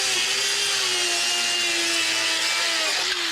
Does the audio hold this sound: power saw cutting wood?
yes